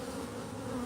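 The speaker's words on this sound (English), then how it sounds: "Wow, those bees are really aggressive tonight." Agitated bees buzz densely around a hive during honey extraction at night, a steady, close, continuous drone of many insects with no talking.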